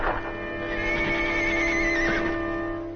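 A horse gives one loud, drawn-out neigh with a wavering whinny, close and clear over a quiet background in a 1951 western film.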